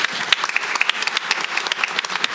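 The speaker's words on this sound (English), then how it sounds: "Round of applause." Audience clapping at a school board meeting, a steady, lively round of many hands close by, with sharp individual claps standing out and no talk over it.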